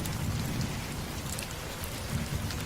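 Heavy rain pours on a dark night in a horror story, a dense, steady hiss of drops striking surfaces with a low rumble beneath, close and continuous.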